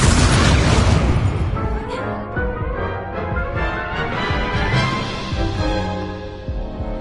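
A Confringo blasting spell goes off in Hogwarts Legacy as a loud booming explosion at the start, its rumble decaying into a busy layered tail of game sound over several seconds.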